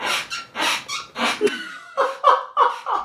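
The door of a newly moved-into apartment squeaks and creaks in a string of drawn-out groans, several loud close strains at an uneven rhythm, alone without any talking.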